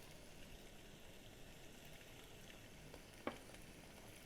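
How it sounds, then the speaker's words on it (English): Fish frying in a pan, a quiet, steady sizzle with a faint crackle, one brief louder pop near the end and no talking. "I can hear my fish sizzling over here"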